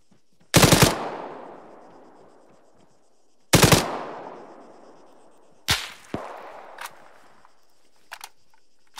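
Gunfire from a firefight in the military shooter ARMA 3: two loud, ringing shots with long echoing tails, followed by a quicker crack and a few fainter distant pops, with no one talking.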